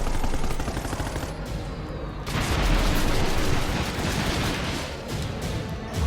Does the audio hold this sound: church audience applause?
no